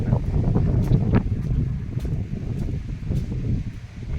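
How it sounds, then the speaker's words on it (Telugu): Strong wind gusting steadily outdoors during rain, a continuous broad rumbling roar with buffeting against the microphone, loud and close throughout with no voices. "వర్షం స్టార్ట్ అయితే విపరీతమైన గాలి వస్తూ ఉంటుంది"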